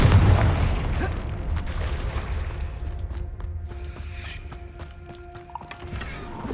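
A Confringo fire spell explosion in the Hogwarts Legacy video game on PS5, a deep booming blast that fades into rumble, followed by scattered clicks and tonal game effects, loud and close.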